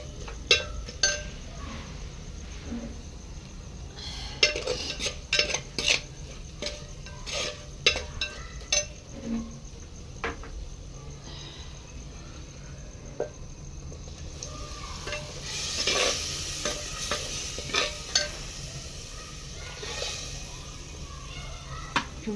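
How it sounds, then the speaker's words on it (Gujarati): Dal is being tempered in a pot over a wood-fired clay stove, with scattered stirring clinks and scrapes, then a soft sizzle swelling up partway through, all fairly quiet. "આપણે એની અંદર દાળને વઘાર કરી લઈએ"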